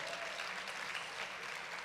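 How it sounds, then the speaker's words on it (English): A conference general session audience claps continuously, a soft, even wash of applause heard from a distance at moderate volume throughout. "let's give her applause."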